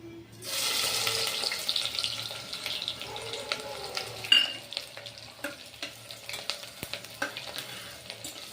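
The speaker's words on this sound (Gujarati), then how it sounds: "તેલ આપણું ગરમ થઈ ગયું છે, એમાં આપણે આ ડુંગળી નાખી દઈશું।" Sliced onion drops into hot oil for a Kathiyawadi stuffed brinjal curry, bursting into a loud hissing sizzle that settles into steady frying with crackles and stirring scrapes.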